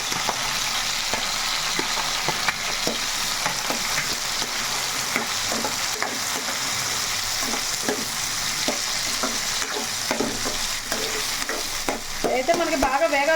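Tomato pieces and green chillies fry and sizzle in a pan for chutney, a steady crackling hiss broken by repeated stirring scrapes, fairly soft and close, with no voices.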